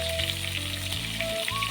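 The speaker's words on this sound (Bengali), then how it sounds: "ওইদিকে মাছটা ভাজা হোক" Fish sizzling steadily in hot oil in a pan, a dense close crackle with a faint tonal hum underneath and no talking.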